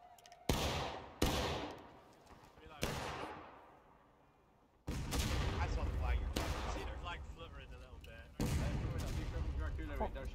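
Musket volleys in the War of Rights video game: several loud, sharp reports in close succession with long decaying echoes, then a heavy rolling crackle of massed fire, with talk faintly underneath.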